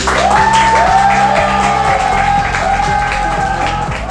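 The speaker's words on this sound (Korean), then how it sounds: "여러분 그들에게 응원의 박수 부탁드리겠습니다." Audience applause for five students finishing a six-month math improvement project, steady clapping mixed with a tonal musical sweep and rhythmic low beats.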